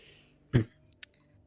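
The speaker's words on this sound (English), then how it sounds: "that was clearing my throat" A single short, gruff throat clearing up close, followed by a faint click, then quiet.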